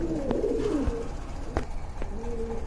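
A pair of Black Lakka pigeons coo close by, a rolling coo near the start and a shorter one later, amid faint background noise and a few knocks.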